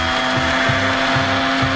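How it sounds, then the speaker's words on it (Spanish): A blender grinds the marinade ingredients for a pernil, an oven-roasted pork shoulder, with a steady whirring motor hum and low rhythmic pulses as the contents churn, close and loud, with no talking. "Lo que procedemos a hacer es moler todos estos ingredientes."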